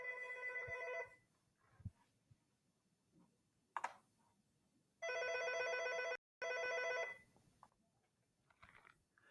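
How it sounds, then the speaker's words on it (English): A telephone rings during a statistics lecture on regression: two bursts of bright electronic trilling with a quiet pause between them, fairly faint, over a near-silent room with a few scattered small knocks. "Sorry about that phone ring."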